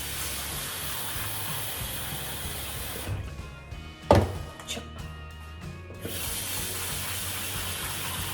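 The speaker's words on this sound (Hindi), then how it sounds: "ये दाल हो गई, चावल भी धो देती हूँ।" Tap water runs steadily into a sink while rice is rinsed, the flow pausing midway with a few knocks and clatters of the pot before the running water resumes, fairly close and continuous with no talking.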